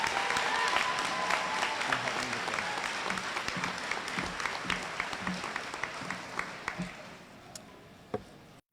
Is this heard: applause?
yes